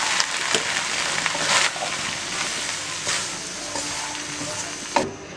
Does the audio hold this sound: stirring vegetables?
yes